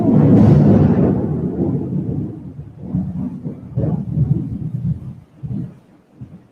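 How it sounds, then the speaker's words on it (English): Thunder following a lightning flash, a loud broad rumble that swells at the start and then rolls and tumbles unevenly for several seconds, sounding fairly close, with no voices. "Oh, bit of lightning."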